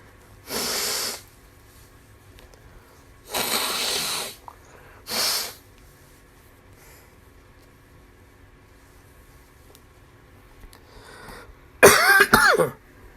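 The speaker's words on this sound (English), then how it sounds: "I'm going to blow my nose really quickly" Several separate bursts of forceful nasal blowing, each about a second long, with quiet pauses between, ending in a louder, harsher honking blast.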